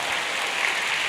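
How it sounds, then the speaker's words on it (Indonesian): An audience bursts into steady applause during a church sermon about staying healthy. The clapping is dense and sustained at an even level, with no talking over it. "tepuk tangan dulu dong buat firman Tuhan saudara"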